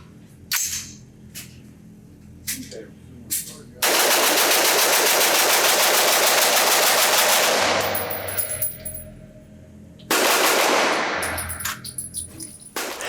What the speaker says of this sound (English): I just gotta do a very quick and fun mag dump.